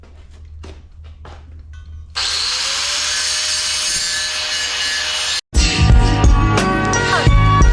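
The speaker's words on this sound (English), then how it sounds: "We're gonna grind the drive shaft down on the flange a little bit" A power grinder works down the drive shaft flange on an RX7 FC drift car, a loud, steady abrasive whine lasting several seconds after quieter tool noise. A brief cut follows, then a harsher burst of grinding.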